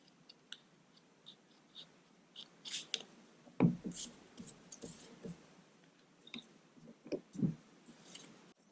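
Scissors cutting strips of conductive tape to width for coin sensors, giving a few sharp, close snips spaced apart amid quiet handling rustles.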